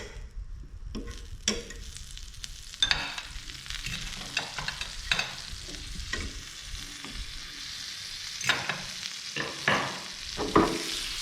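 Bread sizzles and fries in melted butter in a pan for a BLT sandwich, a steady close crackle broken by scraping stirs and clinks of a utensil, with no talking.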